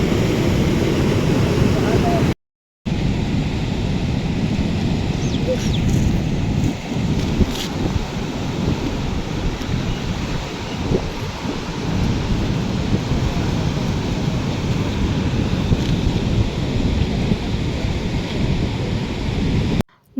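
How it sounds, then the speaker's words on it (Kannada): Forceful river water rushes beneath a bridge at a tourist spot as wind blows, making a loud, unbroken roar that fills the whole scene. "ಅಷ್ಟೊಂದು ಫೋರ್ಸಾಗಿ ನೀರು ಹೋಗ್ತಾ ಇತ್ತು ಅದರ ಸೌಂಡು ಗಾಳಿ ಸೌಂಡು"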